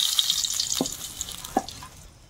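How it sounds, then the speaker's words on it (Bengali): Fish roe dropped into hot oil after frying fish, a steady close sizzle with a couple of brief stirring clatters. "মাছের ডিমটা একটু দেবো তেলের মধ্যে"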